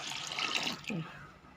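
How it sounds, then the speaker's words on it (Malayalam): A measure of water poured into a pot of Malabar-style coconut rice, a brief close splash and gurgle of pouring liquid that fades away within about a second. "ഞാൻ ഇതിലേക്ക് ഒരു വാട്ട വെള്ളം ഒഴിക്കുന്നുണ്ട്"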